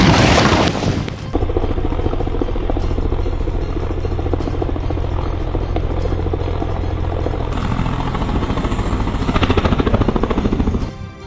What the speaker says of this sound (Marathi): हेच ते हेलिकॉप्टर ज्यानं सुषमा अंधारे प्रवास करणार होत्या मात्र प्रवासापूर्वीच हेलिकॉप्टर क्रॅश झाले